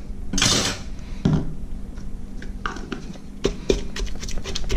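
Shrimp paste mixed into pounded green papaya salad in a mortar, with close knocking, scraping and clattering of the utensil against the bowl in irregular bursts.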